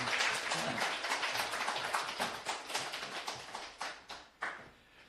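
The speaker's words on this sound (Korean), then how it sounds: "우리 박수로 목사님 나오겠습니다." A church congregation at a Korean Sunday afternoon worship service claps to welcome the pastor to the pulpit, fairly quiet applause that thins out and breaks into scattered individual claps near the end.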